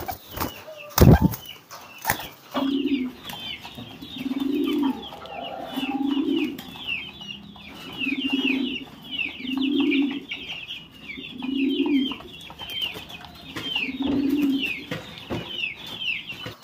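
Pigeons coo in a steady series of soft, low, rolling calls repeating every couple of seconds, after an opening flutter of wing flaps, with faint background chirping and no voices.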